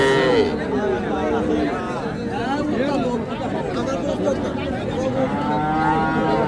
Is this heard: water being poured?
no